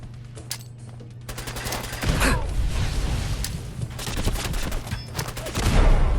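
Rapid bursts of gunfire from a super mutant video game rattle out in dense volleys over continuous game ambience, growing louder and more chaotic toward the end, with no talking.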